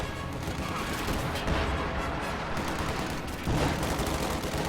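A field gun pounds a Panzer IV tank in a war video game, a dense, continuous roar of heavy gunfire and blasts, loud and close with no pauses, swelling near the end.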